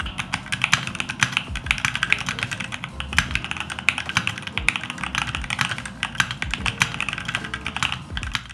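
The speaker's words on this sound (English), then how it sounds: "so I can get very satisfying typing sounds like this." Close, crisp keystrokes on a custom-built Tofu 60% mechanical keyboard fitted with linear tangerine switches, typed at a fast, even pace with occasional heavier thocks, continuous and unaccompanied by talk.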